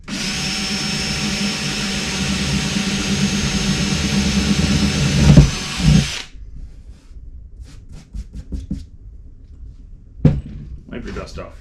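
A power drill runs steadily with a 3/8 drill bit, boring mounting holes for turn signal relocation on a Harley Dyna Super Glide; the loud whir lasts about six seconds, then stops, followed by quieter handling clatter and a couple of knocks.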